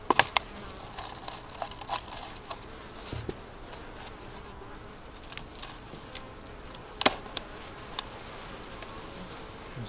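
Honey bees buzz around their hive late in the day as foragers return home, a faint, steady insect hum with a few brief louder passes close by.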